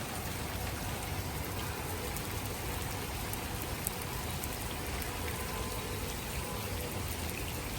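Rain falls steadily on a rooftop garden of leafy greens, lemon and frangipani plants. A dense, even patter of drops continues for the whole stretch.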